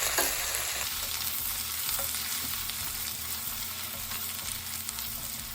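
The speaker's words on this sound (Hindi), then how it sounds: "इसको हम अच्छे से भून लेंगे।" Crushed ginger and garlic fry in hot oil with browned onions, making a dense, continuous sizzle with stirring scrapes beneath it. It stays close and fairly loud for several seconds with no voice.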